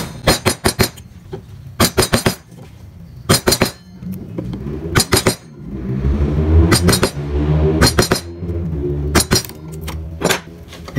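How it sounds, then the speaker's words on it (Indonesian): Gouge chisel carving wood for a beginner's carving piece: sharp clinking taps come in tight bursts of three or four every second or so, ringing against a steady low hum and a faint background voice. "Kemudian dirapikan menggunakan pahat penguku juga"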